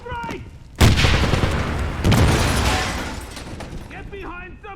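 A grenade blast goes off loud and close in Wolfenstein (2009), a heavy boom followed by a long rumbling wash of debris and a second swell, with voices shouting before and after.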